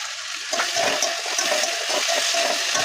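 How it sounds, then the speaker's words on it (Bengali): Water runs steadily from a tap while dishes are scrubbed clean, a continuous broad rush with faint clinks of utensils mixed in, fairly close. "যে কটা বাসন বেরিয়েছে মেজে ফেলছে"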